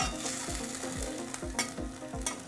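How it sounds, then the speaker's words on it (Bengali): A spoon stirs cauliflower and potato curry in a pan after water goes in, making a soft, rhythmic scraping about twice a second over a gentle simmering sizzle, with a few sharper clinks, close and fairly quiet. "জল দেওয়ার পর একবার নাড়াচাড়া করে ভালো করে মিশিয়ে নেব।"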